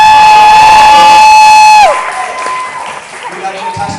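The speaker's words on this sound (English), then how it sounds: "Round of applause for that." Audience applause for a dancer at a stand-up comedy talent show, rising from a crowd right after a loud sustained electronic tone cuts off, then carrying on at moderate volume for about two seconds.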